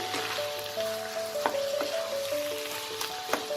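Pumpkin chapor ghonto, a Bengali vegetarian dish, sizzling steadily in a pan while a utensil stirs and scrapes it with a few clinks and knocks, close and fairly loud, no talk.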